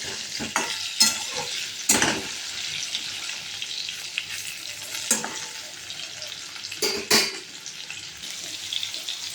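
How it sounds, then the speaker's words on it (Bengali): Potatoes fry in hot oil for a mutton curry, with a steady close sizzle broken by intermittent clatters of a spatula stirring and scraping the pan. "আলুগুলো বেশ লাল লাল করে আমি ভেজে নেব।"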